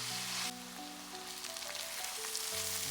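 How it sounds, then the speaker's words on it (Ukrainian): Chopped onion frying in hot oil in a pan, a steady dense sizzle with crackling, close and continuous with no talk. "Обсмажую цибульку до такого золотистого стану, щоб вона стала така м'якенька і трохи золотиста"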